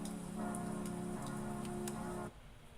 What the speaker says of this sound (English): I don't like the rain. I don't like rain.